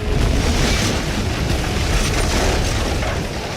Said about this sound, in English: my favorite explosions always involve some sort of fuel